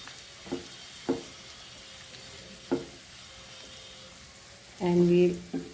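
Chilies sizzle in a hot pan while cooking a Goan jackfruit dish, a soft steady frying hiss broken by a few sharp clinks of a utensil and a louder burst of sizzling near the end.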